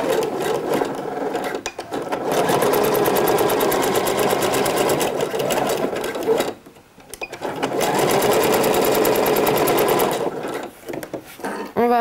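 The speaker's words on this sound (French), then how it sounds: "Et je vais donc coudre au point zigzag." Close sewing machine running a zigzag stitch on a two-piece swimsuit, a fast even whirring hum in two long sustained runs broken by a short pause near the middle.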